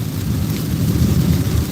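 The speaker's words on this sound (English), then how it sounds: "So Salaki, y'all can't hear me like that because it's raining hard as hell." Heavy rain pours outdoors, thick with a low, rumbling roar of thunder throughout, loud and close, with no speech.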